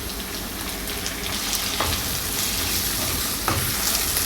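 Ripe chopped tomatoes and curry leaves sautéing in a pan for a meal maker gravy, a steady close sizzle with a couple of sharp stirring scrapes, no talking.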